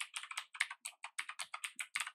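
Computer keyboard keys pressed repeatedly while tabbing through a form, about a dozen crisp, close clicks in a steady rhythm with no talking.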